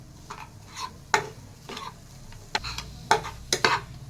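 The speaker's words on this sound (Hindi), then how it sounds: "इसको भूनेंगे, थोड़ा ही भूनेंगे। मैश करेंगे, इसको मैश करेंगे" Mawa roasted and mashed in a pan over a low flame for gujiya filling, a faint sizzle beneath intermittent spatula scrapes and taps against the pan, close and quiet, with no voices.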